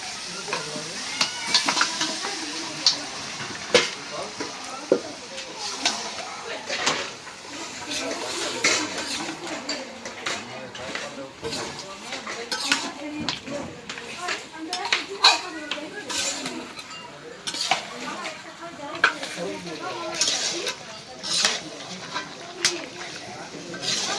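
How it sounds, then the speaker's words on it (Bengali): Rooster meat goes into a pan of well-fried, softened onions and spices and is stirred. A steady sizzle runs under repeated metal scraping and clinks of a spoon against the pan, with voices faintly in the background. "এখন মাংসটা দিয়ে দিই।"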